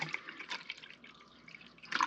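Vinegar poured into a measuring cup for pickling wild rattlesnake weed, a soft close trickle and splash lasting about two seconds, with no talking.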